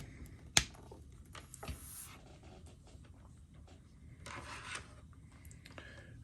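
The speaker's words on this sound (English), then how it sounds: "We'll then take one of our TRS-Y splitter cables," A TRS-Y splitter cable is plugged into the bidirectional port of an Empress Midibox2: one sharp, close click followed by soft scattered rubbing and handling clicks in an otherwise quiet room.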